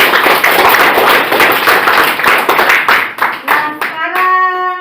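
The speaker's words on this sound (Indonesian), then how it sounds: "tepuk tangan untuk kelompok 1" A classroom of students clapping hands together for the first group, quick sharp claps in a loose rhythm that thin out near the end, where a short sung or chanted voice takes over.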